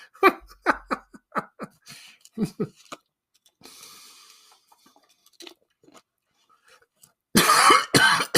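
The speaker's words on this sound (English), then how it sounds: "Sorry, I'm coughing." Someone talks briefly, goes quiet, then breaks into a loud, harsh coughing fit close to the microphone.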